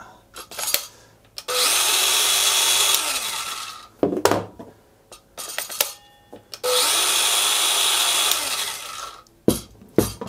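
A Makita cordless power saw running on a compact 5Ah battery whirs loudly for a few seconds, stops, then runs again, with clicks and handling noises between the two bursts.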